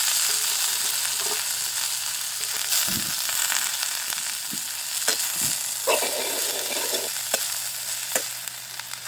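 Onion, cabbage and leeks are stir-fried in a pan for a vegetable kunda dosa filling. A steady close sizzle runs throughout, broken by repeated scraping and stirring knocks of the spatula, with no talking.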